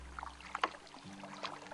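Kayak paddle strokes through thick mangroves off Ibo Island: faint, scattered dips and small splashes with quiet water movement, all at a low level.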